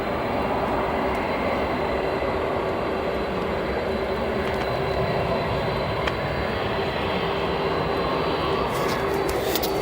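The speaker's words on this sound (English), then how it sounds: "You can see, or you can hear those CF6 engines." A China Airlines cargo Boeing 747-400 with CF6 engines roaring at O'Hare Airport, a loud continuous broadband engine rumble with a steady tone throughout, no talk.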